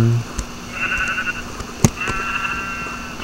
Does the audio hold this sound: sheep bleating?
yes